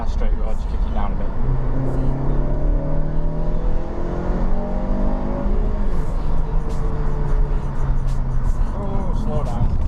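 Car engine revving and pulling hard on a straight road, a loud steady drone climbing through gear changes with rising pitch sweeps, heard from inside the car with a voice talking over it.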